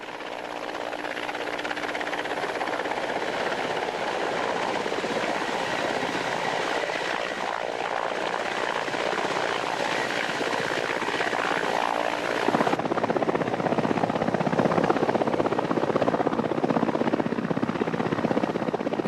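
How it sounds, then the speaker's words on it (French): A helicopter flies steadily nearby, its rotor and engine roar continuous and loud throughout, growing slightly stronger toward the end. "L'hélicoptère arrive le premier au point de rendez-vous."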